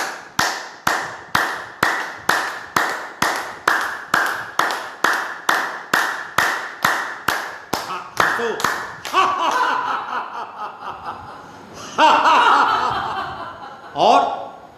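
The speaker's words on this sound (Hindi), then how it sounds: "रक्त प्रसरण प्रणाली को लिए ताली बजाओ।" A group claps hands together in a yoga session done for blood circulation, about twenty sharp, steady, evenly spaced claps that then give way to laughter and loose chatter, with one more burst near the end.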